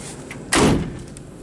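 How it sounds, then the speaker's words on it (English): A single solid thump as the door of a 1959 Ford Galaxie is swung shut, heard close in a short, quiet scene. "Door shuts pretty good."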